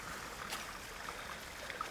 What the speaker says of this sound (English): There's just a tiny little waterfall falling down the rocks here.